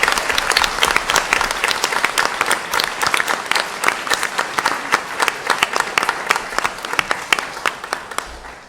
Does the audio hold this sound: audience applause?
yes